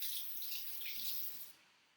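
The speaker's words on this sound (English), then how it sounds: "I'm going to have to wash my hands again" Hands being rinsed under a running kitchen tap while making a cumin lime black bean dip, a steady close hiss of water that cuts off near the end.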